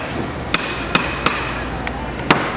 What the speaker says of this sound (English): I'm hacking away at this hammer. I'm going back and forth.